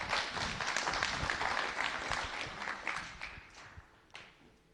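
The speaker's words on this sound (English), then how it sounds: "you can clap." A church audience claps in a busy burst of many hands that gradually thins and fades toward the end, leaving a few scattered claps.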